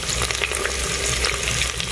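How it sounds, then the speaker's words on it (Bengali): Sliced onions fry in hot oil with bay leaves, cinnamon and cardamom in a pressure cooker, producing a loud, continuous sizzle with a few stirring scrapes throughout. "পেঁয়াজটাকে এখন আমি খুব ভালো করে ভেজে নেব।"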